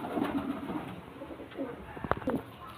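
A pigeon gives a few soft, low coos close by against faint background noise, followed by a couple of brief sharper sounds.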